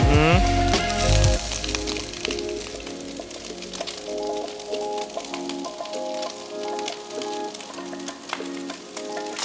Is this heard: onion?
yes